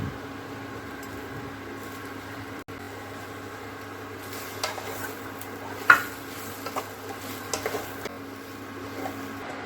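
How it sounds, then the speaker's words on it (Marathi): Modak filling of khoa, jaggery and grated coconut being stirred in a pan, faint soft scraping and occasional light clinks of a spoon against the pan over a low steady background. "आणि खोबऱ्याचा बारीक किस घालून त्याला चांगलं परतवून घेऊया."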